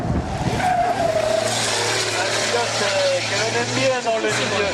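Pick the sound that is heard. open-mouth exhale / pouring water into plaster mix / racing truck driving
racing truck driving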